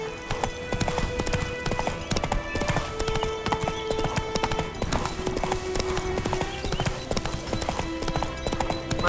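Horse hooves clip-clop steadily at a gallop in the Witcher 3 video game, a loud continuous rhythm layered with game music and occasional whinnies.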